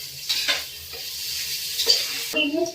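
Onion, curry leaves and tomato fry in a pan with a low sizzle and a few scattered clinks and scrapes of a spoon against the pan, close and fairly quiet, with no talking.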